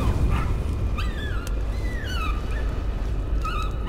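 A dog in the horror video game Layers of Fear barks and whimpers over a dense, rumbling in-game ambience, giving short yelping calls and a few whiny rising cries spread across the stretch.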